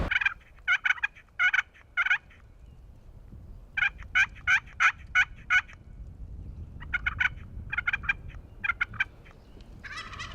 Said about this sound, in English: It's a gobbler, Vanessa.